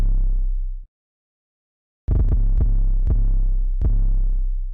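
Deep, booming 808 bass, one sustained note that cuts off, then after a short silence a run of quick rolled hits over a steady low drone, loud and close with no voice.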